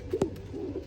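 A pigeon gives a soft, low coo close by, one short burst followed by faint murmuring coos in a quiet setting.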